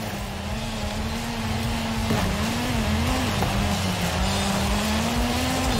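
A car engine in Forza Horizon 5 holds a steady, loud drone that wavers slightly in pitch as the driving goes on, with no voices over it.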